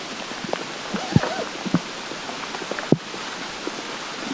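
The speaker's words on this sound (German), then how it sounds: "Okay, jetzt wird's ungeil. Jetzt regnet's." Steady rain falling outdoors in Dortmund, a broad even hiss of drops with a few sharper taps and thumps standing out, moderately close, no voices.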